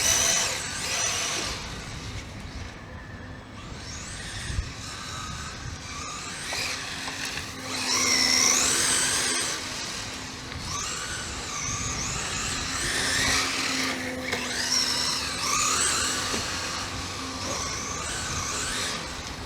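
A Traxxas Ford Mustang GT 4-Tec 1/10 4x4 RC car on a VXL-3S brushless setup whines and surges near and loud, its electric motor rising and falling in repeated bursts for about twenty seconds with no talking.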